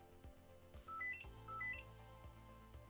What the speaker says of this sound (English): I'll ignore that phone call for now because this is more important.